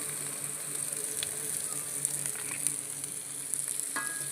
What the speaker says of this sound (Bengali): এবার গরম তেলের মধ্যে দিয়ে দেবো কেটে রাখা পেঁয়াজ সবটা দেবো না কিছুটা দেবো দিয়ে দেবো আদা আর অর্ধেক পরিমাণ রসুন